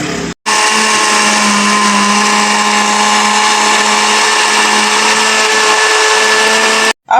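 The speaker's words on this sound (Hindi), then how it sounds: "अब इसको मैं ग्राइंड कर लूंगी।" A kitchen blender grinds watermelon with jaggery and rose syrup into juice, whirring loudly and steadily for about six and a half seconds between an abrupt start and stop.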